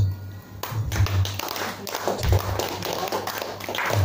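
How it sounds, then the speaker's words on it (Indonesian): An audience at a community gathering in Bantul breaks into scattered applause, a moderate patter of claps with a few louder taps, fairly close and continuing through the whole stretch. "Kita berikan aplaus."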